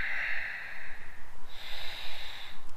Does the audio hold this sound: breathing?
yes